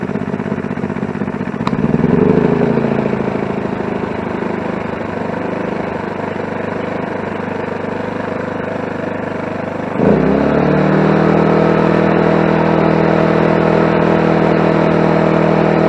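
A Champion 2500 watt generator's small engine runs steadily at a close, loud idle, then surges to a higher, stronger drone partway through and holds there without any talk.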